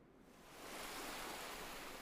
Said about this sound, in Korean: 그래서 지금 여기 파도 소리나